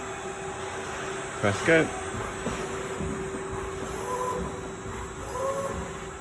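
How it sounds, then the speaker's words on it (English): Spindle of an XYZ SMX 4000 bed-type CNC milling machine runs at 1000 RPM through a hole-drilling program, a quiet steady hum with a faint tone under brief speech. "Spindle's running at 1000 RPM there."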